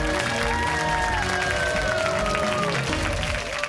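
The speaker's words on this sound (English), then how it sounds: "Let's have a round of applause for both teams." Applause for both teams at a high school quiz match, Acton-Boxborough against Littleton, sustained clapping from a crowd that holds steady for several seconds, with background voices and tones mixed in.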